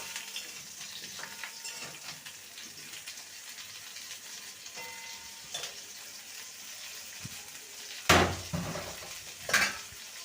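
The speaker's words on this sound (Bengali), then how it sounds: "এবার ফুলকপির টুকরোগুলো দিয়ে দেবো" Cauliflower pieces dropped into a pan with golden-fried potatoes for a vegetarian dish, a soft continuous sizzle punctuated by loud clattering scrapes and clanks of a spatula stirring against the pan.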